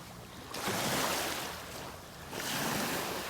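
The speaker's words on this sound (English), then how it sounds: "the waves are coming in a little higher on the beach" Waves wash onto a Lake Michigan beach in Wisconsin, two broad surges of surf swelling and receding in a steady rhythm, loud and close with some wind in the microphone.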